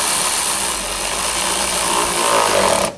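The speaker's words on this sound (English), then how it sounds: "Tighten the worm clamp down." Power tool whirring steadily while tightening a worm clamp on an AC hose of a 2006-2010 Hummer H3 3.7L, loud, continuous and close, cutting off sharply at the end.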